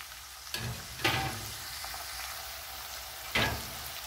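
Corn goes into onions frying in a pan, a steady sizzle with a few louder bursts as food hits the hot oil and gets stirred, close and alone with no talk.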